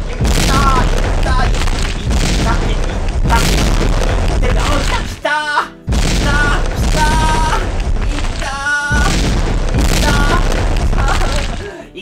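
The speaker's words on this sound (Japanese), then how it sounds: "そう、これが爆発ボーリングですよ。" Loud, booming explosions in an exploding-bowling video game burst repeatedly over a dense, busy mix of music and effects, with short gaps between blasts.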